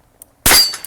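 A British Enfield No. 2 MkI* revolver in .38/200 fires a single double-action shot, a sudden loud, sharp crack with a bright metallic ring that decays over a fraction of a second, preceded by a faint mechanical click.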